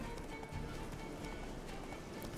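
A horse gallops in The Witcher 3: Wild Hunt, with steady clip-clop hoofbeats running continuously under dense game ambience and background noise, moderately loud throughout.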